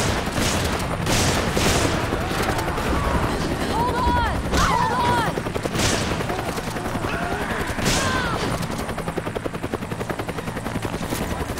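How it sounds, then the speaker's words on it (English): Rapid bursts of gunfire in the video game Resident Evil 5 crackle over a steady droning helicopter-like rumble, with voices talking in the mix. "can hear gunfire"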